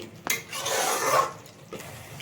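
Spice paste with yogurt being stirred and fried in a pan while cooking an egg and potato curry, a close scraping and rasping of a spatula against the pan in a few rough strokes, with no talking.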